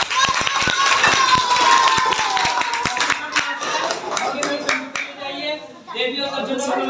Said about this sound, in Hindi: इनके लिए जोरदार तालियां